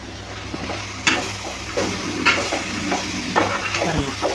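Cabbage sautéed with tomato and onion for a spicy South Indian sambar sizzles steadily in a pan, up close, with repeated scraping and clanking strokes of a stirring spoon about every half second.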